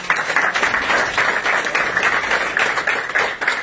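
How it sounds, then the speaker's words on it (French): A crowd claps loudly and continuously, a thick wash of hand claps with slight surges in intensity, close and steady throughout. "On applaudit très fort"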